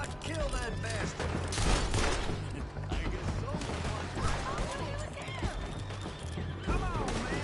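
Gunfire in the video game Red Dead Redemption 2, dense crackling shots with horse sounds mixed in, heard continuously under loud shouting voices.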